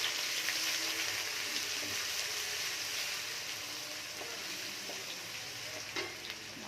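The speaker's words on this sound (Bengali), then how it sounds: "এবার আমি পেঁয়াজ আর রসুনটা একসাথে দিয়ে দিলাম।" Onion and garlic sizzle steadily in hot oil over a tempering of bay leaf and dried red chillies, a continuous close frying hiss with faint stirring scrapes for a rajma curry.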